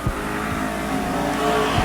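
Pro trucks race through a qualifying session at Auburndale, with a loud, steady engine roar close by, tires briefly squealing and a couple of quick passing surges.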